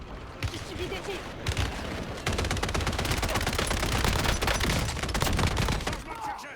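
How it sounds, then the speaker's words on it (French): Dense, rapid bursts of automatic gunfire in a shooter video game, loud and continuous for several seconds with overlapping shots and a brief lull near the start. "J'ai subi des tirs."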